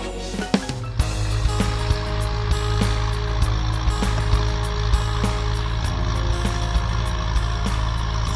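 A Kubota M6240 SUH tractor plowing a rice paddy, its diesel engine starting up abruptly and then running at a steady loud drone with a strong low hum, light rattles and repeated clanks, close and with no speech.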